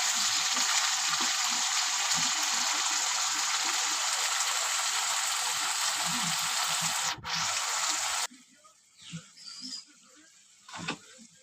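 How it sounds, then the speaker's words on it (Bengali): Hot spice paste for a spicy tengra fish curry sizzles loudly and steadily in a pan as water is added, then the hiss cuts off abruptly, leaving faint scattered crackles. "এখন আমি অল্প জল দিয়ে দেবো"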